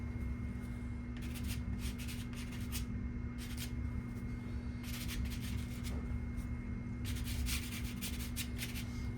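Black pastel stick rubbed and scraped across paper in several bursts of dry scratchy strokes, with quiet pauses between, close and moderately faint over a steady low hum.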